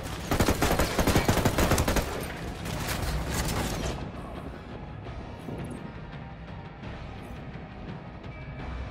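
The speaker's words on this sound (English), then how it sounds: "opening fire." Sustained automatic gunfire in the tactical shooter Ghost Recon Wildlands during a firefight, dense and loud bursts for the first few seconds, then a lower rumbling wash of distant shots and battle noise.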